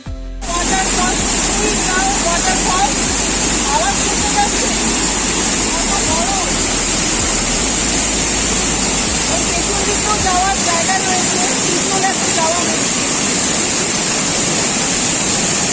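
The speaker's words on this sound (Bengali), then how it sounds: "সঙ্গে সঙ্গে জলেরও আওয়াজ পাওয়া যাচ্ছে" Vantawng waterfall in Mizoram, swollen after the monsoon, pours in a steady, dense rush of broadband water noise that holds without a break throughout, with faint insect or bird calls threaded through the roar.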